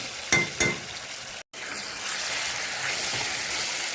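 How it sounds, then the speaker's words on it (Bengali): Paneer with potato and spices frying in hot oil in a pan, a couple of stirring scrapes early on, then a steady close sizzle with no talking. "পনিরটা দিয়ে একটু সময় ভেজে নেব।"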